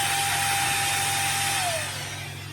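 Cheap electric dust blower for cleaning a PC whirring loudly and close with a high motor whine that drops in pitch and level as it spins down near the end.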